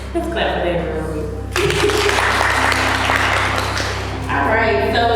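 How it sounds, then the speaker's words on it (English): An audience bursts into applause at a community event, a dense burst of clapping that swells for about three seconds between stretches of voices talking. "Let's clap for that real quick."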